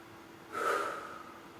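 One forceful exhalation blown out through the mouth during a Qi Gong relaxation exercise, a short breathy whoosh lasting under a second against quiet room tone.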